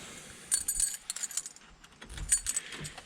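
A bunch of cabin keys jangles close to the microphone in a state park bathhouse, giving bright metallic clinks in two short bursts with a brief pause between them.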